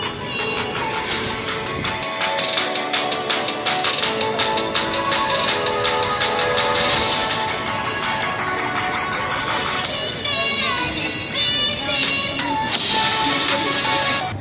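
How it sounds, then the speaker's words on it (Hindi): Music played through the built-in speakers of an Asus Vivobook laptop in a cafe, a steady, full-band stream of tones and beats running loud and continuous with no talk over it. "जैसे कि आप लैपटॉप की आवाज़ सुन सकते हो कि वो आवाज़ कैसी आ रही है"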